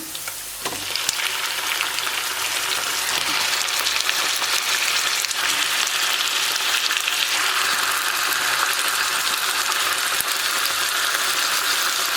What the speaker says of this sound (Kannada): ಇವಾಗ ನಾನು ಚಿಕನ್ನ